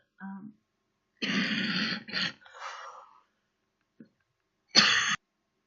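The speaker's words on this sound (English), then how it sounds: "I get attacked with coughing fits whenever I'm trying to listen or say something" Several harsh coughs come in separate bursts with quiet gaps between them, close to the microphone, sounding like a fit of throat-clearing coughs.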